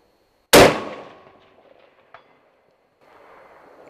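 A single loud rifle shot fired at a target, sharp onset with a ringing decay, followed by a faint distant impact tick about a second and a half later, then quiet background noise.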